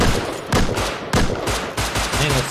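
Rapid bursts of loud, close gunfire in the survival video game Rust during a raid, several sharp shots in quick succession with a dense, rumbling tail.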